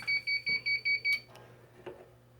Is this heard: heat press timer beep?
yes